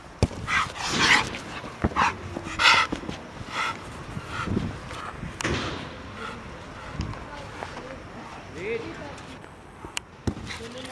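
Dogs at a kennel bark and whimper in short, loud bursts close by, with panting and scuffling between them, while people shout and talk over the commotion.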